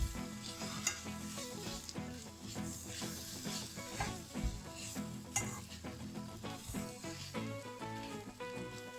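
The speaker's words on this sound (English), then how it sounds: "So just stir that until it's well mixed and let it fry." Spices such as dhana jeera powder and turmeric stirred and frying in a pan over medium heat, a continuous soft sizzle with frequent light scraping and clinking of a spoon, faint and close.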